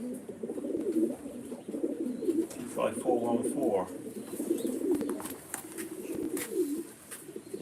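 A racing pigeon coos with a soft, rolling burble while being handled and basketed the evening before a race, a voice reading out a ring number over the low murmuring, with other pigeons cooing nearby.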